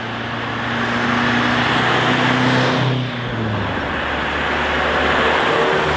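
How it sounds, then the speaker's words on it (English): A restored 1961 Mercedes-Benz 190 SL classic car drives along with a steady engine drone and road noise heard from nearby, swelling slightly and then easing, with no talking. "I'm driving a 1961 190 SL"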